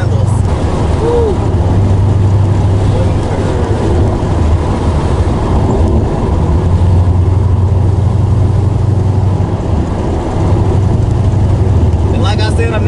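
Steady low drone of an LS V8-swapped Mazda RX-8 cruising on back roads, heard from inside the cabin with road and wind rumble, someone talking over it.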